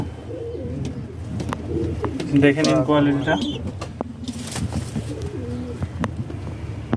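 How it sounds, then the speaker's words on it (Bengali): Fancy lokka pigeons coo softly in soft, rolling bursts close by, while someone talks over them almost throughout. "পায়রা দুটো দেখছো এইটা এখানে কোথাও পাবে না"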